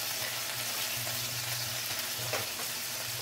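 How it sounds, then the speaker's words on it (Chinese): Chicken wings marinated in fermented bean curd sizzle steadily in a pan as the second side fries, a continuous close crackle with no one talking. "咁我哋再煎埋另外一邊咧"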